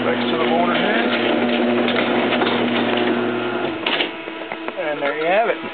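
A Raynor 1265RGD belt-drive garage door opener runs a 10x7 overhead door down, giving a steady mechanical hum and whir for several seconds close by, with a person talking over it.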